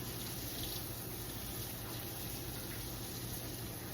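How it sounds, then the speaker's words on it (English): Multicolored bell peppers sauté in hot oil for Cajun rice and sausage, giving a steady, even sizzle-like hiss that runs unbroken and fairly soft throughout, with no talking. "Let these saute for 2 to 3 minutes before you add your garlic."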